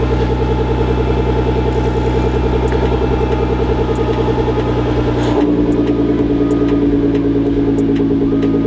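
A Nissan GT-R engine runs steadily and loudly at close range, its exhaust valves being tested, with a slight shift in tone partway through as the revs change; no one speaks.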